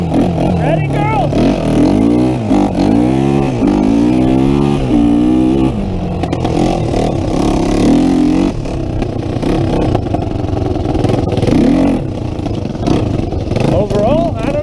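An ATV engine, a Honda 350X fitted with a 400EX carburetor, revs hard close by, climbing and falling in repeated throttle sweeps before settling into a steadier, rougher run, loud and continuous throughout.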